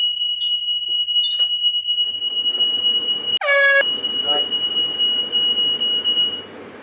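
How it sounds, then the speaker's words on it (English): Smoke alarm in a home kitchen shrieking as scrap lead is melted down, a steady piercing tone running close by for several seconds and broken once by a brief louder buzzing blare, with rumbling background noise beneath. "setting the fire alarm off now"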